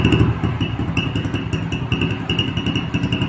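A 2016 Hero Splendor motorcycle fitted with a custom silencer idles after a kick start, its exhaust putting out a steady, close, rapid thumping.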